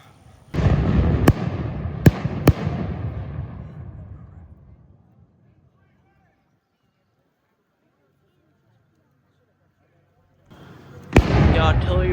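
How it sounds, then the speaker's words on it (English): Cannon blasts of an artillery barrage at a Civil War reenactment in Jefferson, Texas: a loud boom with sharp cracks that rolls away over several seconds, then silence, then another blast as a voice talks. "The artillery barrage is starting."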